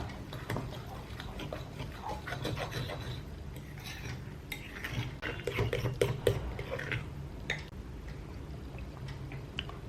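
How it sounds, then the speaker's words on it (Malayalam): A fork mixing instant idli batter made from puttu flour in a bowl, irregular light clinks and wet stirring scrapes, close by, with a few louder taps midway and no speech. "ഇതുപോലെ ഒരു ഫോർക്ക് ഉപയോഗിച്ച് കഴിഞ്ഞാൽ നല്ല വൃത്തിക്ക് നമുക്ക് കട്ട കട്ടാതെ തന്നെ കിട്ടും കേട്ടോ."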